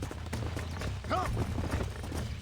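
Horse hooves clip-clop steadily in Red Dead Redemption as a rider leads a newly broken horse, a continuous trotting rhythm under a low rumbling game ambience with a brief tonal cry midway.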